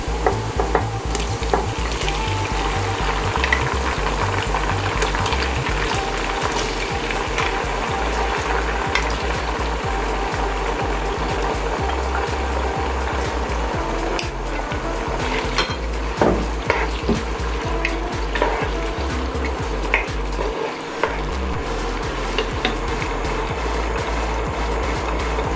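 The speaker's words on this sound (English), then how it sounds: "We allow our meat to fry for about 2 minutes, say 2 to 3 minutes." Meat frying in a pan for a Cameroonian beans dish, a steady dense sizzle with occasional stirring and clinks of utensil against the pot, close and continuous with no talking.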